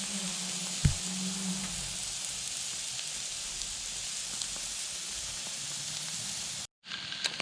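Bread grilling on indirect heat for a burger, a steady soft hiss and sizzle running throughout with one faint knock early on and a brief cut near the end.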